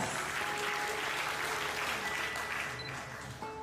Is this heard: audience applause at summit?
yes